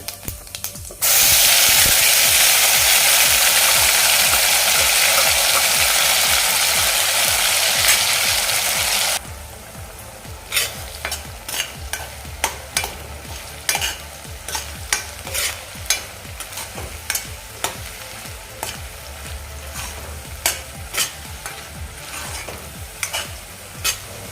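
Ground masala paste fries in oil while being stirred for cauliflower and pea kofta curry. A loud, dense hiss of frying fills the first stretch, then drops to a quieter sizzle marked by rapid, repeated spoon scrapes and taps against the pan.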